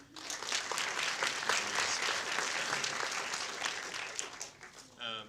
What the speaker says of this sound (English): If we get a round of applause for the other.